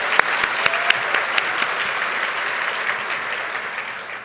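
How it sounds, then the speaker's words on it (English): Audience applause at an awards ceremony in a JW Marriott ballroom, a dense burst of many hands clapping that gradually thins and fades out. "And a round of applause, this isn't on my script, for Steve Ozinga for pulling all of us together and making this happen."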